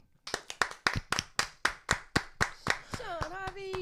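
About a dozen sharp, evenly spaced hand claps ring out close and loud in a brisk rhythm on a morning radio show, with a voice rising over the last claps.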